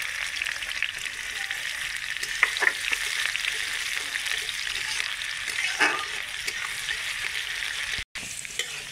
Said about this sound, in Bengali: পেঁয়াজও হালকা করে ব্রাউন করে ভেজে নিলাম